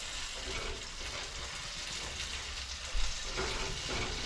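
Potatoes fry in a pan with a steady, close sizzle that runs throughout, and a brief stir or scrape of the pan comes partway through.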